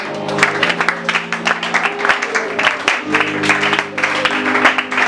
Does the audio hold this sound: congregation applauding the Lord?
yes